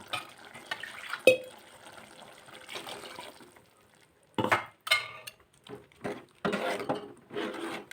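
Coconut paste poured into a simmering vegetable kurma, giving wet pouring and gushing bursts in separate spurts, close and moderately loud, with quieter kitchen clatter between.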